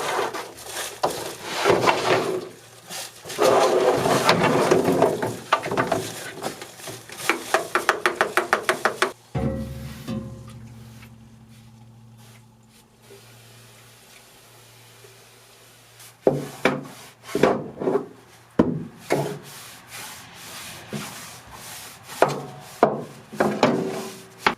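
Rocks tossed into a sled and slid around a room over plastic sheeting, giving loud clattering and scraping bursts, then a quieter lull before the knocking rattles return.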